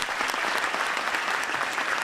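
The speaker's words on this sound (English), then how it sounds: "So let's give another round of applause to Mayor Adams." Dense, steady applause from an audience honoring the mayor at a community event, a continuous wash of many hands clapping at moderate distance with no voices over it.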